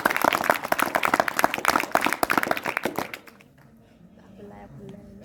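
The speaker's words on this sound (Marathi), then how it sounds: "माझ्या विद्यार्थ्यांना मी विनंती करतो, सूचना करतो, या सर्व विद्यार्थ्यांचं टाळ्या वाजून जोडता त्याचं कौतुक केलं पाहिजे आपण" Students applaud at a school event with dense, rapid clapping that stops abruptly after about three seconds, leaving quiet room tone with faint background voices.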